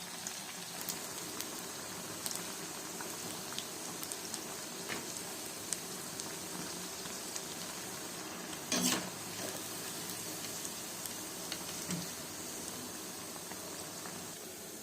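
Banana flower vadai frying in hot oil, a steady dense crackle and bubbling sizzle throughout, with one brief louder rattle partway through.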